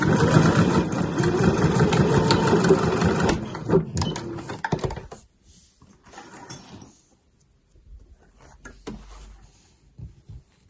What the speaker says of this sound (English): And then I'll do a couple of back stitches at the end.